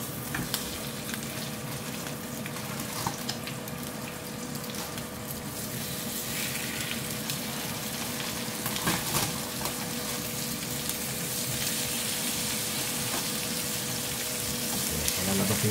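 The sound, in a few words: food frying in a skillet without added oil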